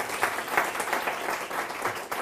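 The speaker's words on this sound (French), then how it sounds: "j'aimerais quand même qu'on les applaudisse toutes et tous" Applause from an audience welcoming guests at the start of a French web conference, a steady wash of many hands clapping at moderate volume, continuous throughout without speech.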